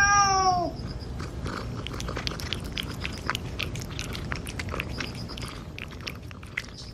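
A cat gives a loud rising-and-falling meow up close at the start, then chews and crunches on food for several seconds with small clicking bites, with a faint later meow, in a quiet room at a Gangwon-do red-light district.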